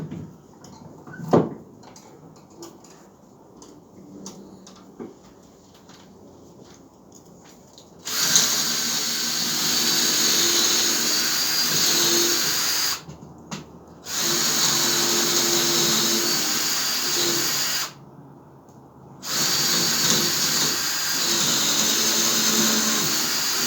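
A power drill bores holes into a wooden block for a solitary beehive, with three sustained whining bursts separated by short pauses, preceded by quieter handling sounds, loud and close.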